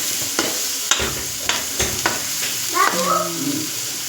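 Masala spice paste for a home-style spicy chicken curry frying in oil in a pan: a steady close sizzle broken by a series of sharp stirring scrapes and clatters, with a brief higher-pitched squeal near the end.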